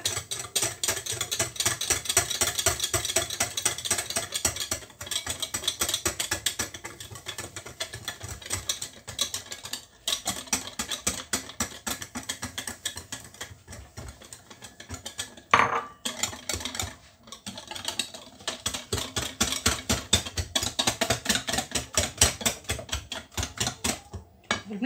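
Semolina batter for basbousa is stirred in a bowl, making quick, rhythmic clicking and scraping strokes that run almost without pause and briefly slow near the middle.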